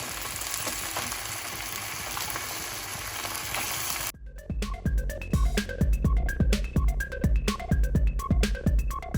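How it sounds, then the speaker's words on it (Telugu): Ginger garlic paste sizzles steadily in a hot pan, then a dollop of yogurt goes in and the frying turns into loud, crackling pops and spits close by, with no talking. "అది ఫ్రై అయ్యాక కొద్దిగా పెరుగు వేస్తున్నాను"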